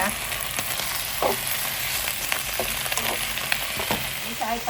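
Carrots and blanched Chinese cabbage with its stems are stir-fried in a pan with a little oil, sizzling steadily up close while a utensil scrapes and taps against the pan at intervals.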